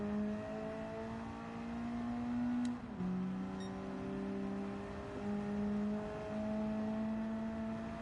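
Race car engine from the Gran Turismo 7 racing game drones steadily with layered tones, dipping briefly at a gear change before the pitch climbs again; loud and continuous with no talk.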